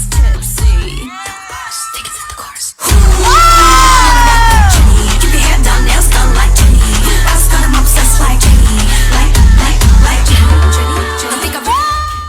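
An excited crowd at a livestreamed dance game bursts into loud cheering, whoops and shouting, with children's voices rising over a sustained roar that persists after a brief lull near the start.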